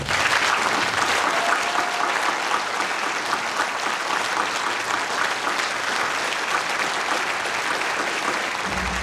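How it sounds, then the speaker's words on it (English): Audience applause for the Minnesota Republican candidates for governor at a candidate forum, a steady, full round of clapping from a sizeable crowd lasting about nine seconds before cutting off. "Please, a round of applause for our candidates."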